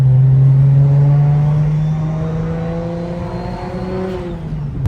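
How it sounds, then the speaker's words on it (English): A single-turbo BMW 335i drives with its exhaust droning loud and raspy, a steady close tone shifting slightly in pitch as the car holds and eases speed, with no talk. "the exhaust is so loud and raspy"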